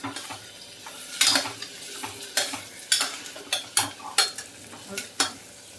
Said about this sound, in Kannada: ತರಕಾರಿ ಎಲ್ಲ ಚೆನ್ನಾಗಿ ಫ್ರೈ ಆಗಿದೆ.